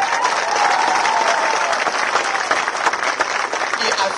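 A crowd at an election rally in Curaçao breaks into applause, a dense, continuous wash of clapping close and loud, with faint voices mixed underneath.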